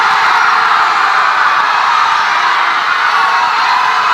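A big group of people screams at the top of their lungs all at once, a loud, sustained roar of massed voices that fills the whole stretch without a break.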